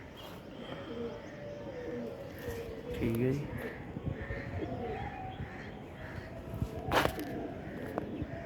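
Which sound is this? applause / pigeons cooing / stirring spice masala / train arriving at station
pigeons cooing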